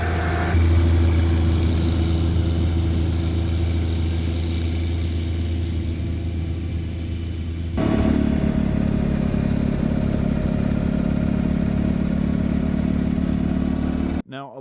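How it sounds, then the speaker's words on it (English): A tractor running a PTO-driven rear-mounted snowblower in a winter blizzard, a loud steady engine drone with a low throbbing hum that shifts pitch and grows heavier partway through, then cuts out abruptly. "a lot of people ask us why we got the rear mounted snowblower. instead of the front mounted?"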